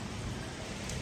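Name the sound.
rain falling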